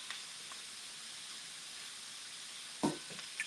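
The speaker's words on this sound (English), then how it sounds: "So I've got the heat on high, and we just want to add a little bit of color to the onion." Onions browning in a pan over high heat give a steady, faint sizzling hiss throughout, with a brief clink of a utensil near the end.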